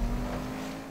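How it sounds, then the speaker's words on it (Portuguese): Damaged car engine revving steadily in GTA V Online during a stunt race with Osiris supercars, a continuous loud droning hum with no speech. "Zoou meu motor"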